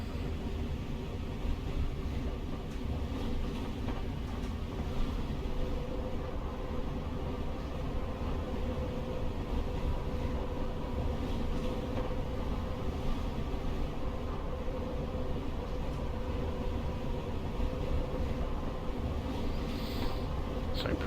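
A Class 442 electric train in Train Simulator Classic cruises at about 90 mph with a steady, dense rumble and rolling hum, an unbroken loud drone with no voices.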